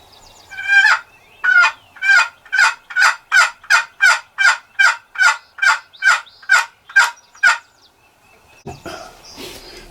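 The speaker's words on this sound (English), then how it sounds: "He's gobbling his hind end off." Wild turkey calls in the woods: a steady, rhythmic run of about fifteen loud, close, evenly spaced notes, followed by quiet and a brief rustle.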